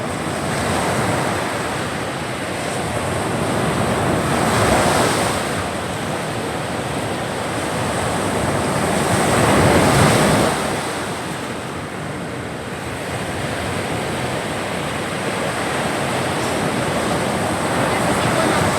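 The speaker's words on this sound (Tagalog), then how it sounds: "Lakas ng alon." Strong ocean waves roll onto a beach, a loud continuous roar of surf with two bigger swells cresting and fading, mixed with gusty wind buffeting the microphone.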